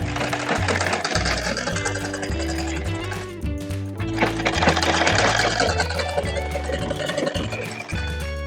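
A sewing machine stitches a pajama seam in bursts of rapid, even mechanical rattling, pausing briefly between runs of stitching, close and fairly loud with no talking.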